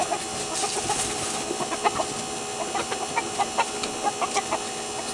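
Chickens and a rooster in a backyard coop cluck over a steady hiss of background noise, with scattered short clucks and calls at mid distance and no talk.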